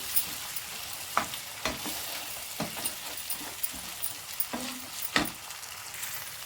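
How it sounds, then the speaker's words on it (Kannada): Green peas frying in a pan for egg curry crackle with a continuous close sizzle, broken by repeated knocks and scrapes of a spoon stirring them, with no talk. "ಈಗ ಚೆನ್ನಾಗಿ ಮಿಕ್ಸ್ ಮಾಡ್ಕೊಳ್ಳೋಣ ಒಂದೆರಡು ನಿಮಿಷ ಹಾಗೆ ಫ್ರೈ ಆಗಲಿ"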